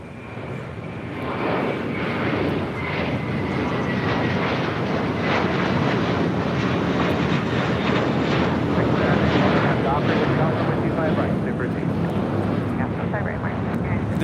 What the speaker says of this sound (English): This is American Airlines Flight 4 taking off to JFK on an A321.